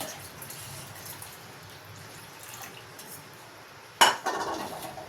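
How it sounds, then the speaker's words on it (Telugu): Milk is added to sago pudding in a pot, starting with a sudden clank of a vessel against the pot and then a brief pour and stir over quiet kitchen background noise. "ఇప్పుడు ఇందులో పాలు కలిపేస్తున్నా"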